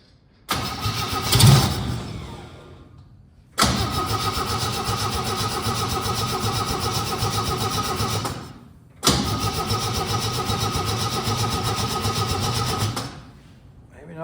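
A one-ton truck engine cranks and runs in two long, loud bursts after fuel is hooked up. Each burst holds a steady mid-pitched drone, then cuts off abruptly. A brief clatter or voice comes at the start.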